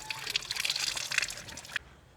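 Water gushes from a well's hand pump in a bright, splashing rush for almost two seconds, then cuts off abruptly.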